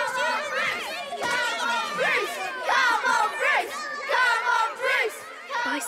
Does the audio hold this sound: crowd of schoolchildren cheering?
yes